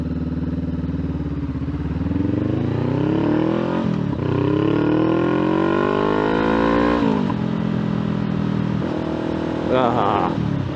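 Honda Rebel 500 parallel-twin motorcycle fitted with a Two Brothers exhaust, revving up and down in rising and falling sweeps, loud and close, with a deep throaty idle between pulls.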